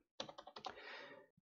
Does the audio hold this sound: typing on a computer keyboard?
yes